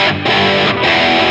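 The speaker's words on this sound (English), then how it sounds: "That bridge humbucker has got plenty of grunt for if you're playing some rock stuff." Heavily distorted rock tone from the bridge humbucker of an LT Custom Guitars Privateer single-cut electric guitar, loud sustained chords played alone with a couple of brief chops.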